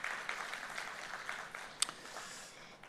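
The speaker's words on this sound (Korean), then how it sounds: "다시 한번 격려의 박수 부탁드립니다." A church congregation gives a round of encouraging applause during Sunday worship, heard as soft, scattered clapping from a distance that fades by the end.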